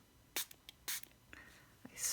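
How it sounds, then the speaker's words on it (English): A spray bottle spritzes water onto watercolor paper in a few short, sharp hissing bursts, separated by quiet gaps, close to the microphone, followed by a longer softer spray at the end. "I'm going to spritz so that the water doesn't go everywhere."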